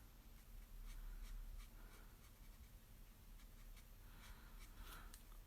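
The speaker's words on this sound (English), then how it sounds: "you can see the, like here, the scratching almost of the pen on the paper" Copic alcohol marker pen scratching across textured watercolour cardstock, a faint continuous scratchy rubbing with soft repeated strokes, alone with no talk.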